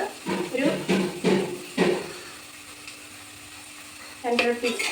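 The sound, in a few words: onion sizzling and frying in pan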